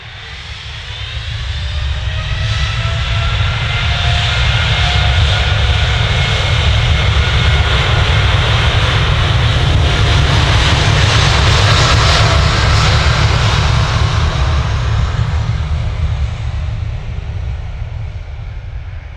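Qatar Airways jet roaring on takeoff at Manchester Airport, a loud sustained engine rumble with whining tones building and holding steady for the whole stretch, then slowly easing as it climbs away.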